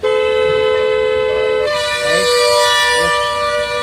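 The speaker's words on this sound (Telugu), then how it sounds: "హార్న్ వాడాలి" A loud, sustained car horn blares close by during a driving lesson, held continuously with a slight shift midway, while faint voices murmur underneath.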